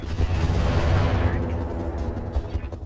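A mech in RogueTech BattleTech fires a SAM missile barrage, a dense rumbling burst of launches and blasts that stays loud for a few seconds and then tapers.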